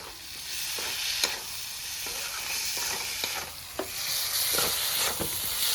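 Prawn masala for a country-style jackfruit and prawn curry fries and sizzles steadily in a pan, with repeated scraping stirs and clacks rising above the hiss and no voices.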